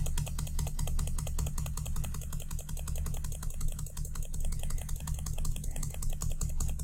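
Rapid, steady computer keyboard typing as zeros are entered and the down-arrow key is pressed over and over, a dense run of close clicks over a low background hum, with no talking.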